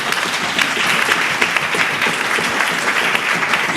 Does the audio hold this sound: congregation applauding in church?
yes